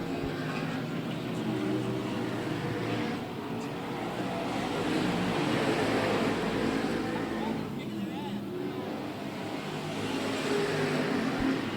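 Race cars accelerate on a track, producing a steady, blended engine roar that holds throughout, with a commentator talking over it.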